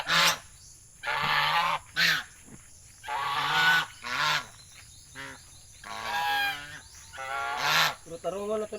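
Loud, harsh honking calls from nearby domestic ducks, repeated in irregular bursts with short pauses between them, no talking.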